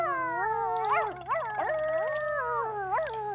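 Dogs howl in The Sims 2, several long, wavering, sliding howls overlapping one another, close and fairly loud with brief yips between them.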